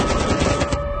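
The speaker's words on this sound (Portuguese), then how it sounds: "Os tiros começaram sem aviso." Rapid, dense bursts of gunfire crackle continuously, close and loud, like automatic weapons firing without pause, during a surprise attack on a rehearsal.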